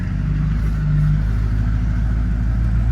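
Duramax LB7 diesel engine in a pickup truck running with a steady, loud low rumble and a brief mild rise in revs partway through.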